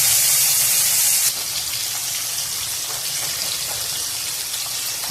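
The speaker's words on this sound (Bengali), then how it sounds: "এবার আমি বাকি মাছ কটাও ভেজে নেব।" Hilsa fish pieces fry in hot oil with a steady, loud, rain-like sizzle that sounds alone and fades slightly after the first second.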